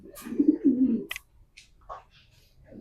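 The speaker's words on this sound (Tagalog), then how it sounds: "Ito mga kalapatids." Pigeons coo in low, throaty, rolling bursts, close by, followed by a few soft chirps and rustles in a quiet setting.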